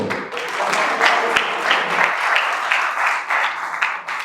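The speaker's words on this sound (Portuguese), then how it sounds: "Uma salva de palmas pro Rafael de Cigarro." A room full of people at a corporate training session claps for Rafael. The applause is dense and continuous, a lively patter of many hands that holds steady throughout.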